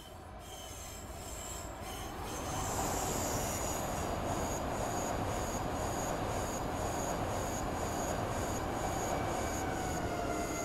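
Inside an ÖBB Railjet passenger train running toward Linz, a steady rolling rumble rises after a couple of seconds and is joined by persistent high wheel squeal, loud and continuous with no talking.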